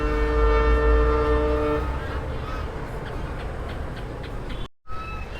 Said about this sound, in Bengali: এই ব্রিজটা দিয়ে ট্রেন যাবে এখনই।